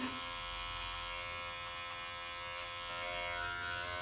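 Electric trimmer running continuously while shaving a beard at a barber session, a close, steady buzzing drone without pauses.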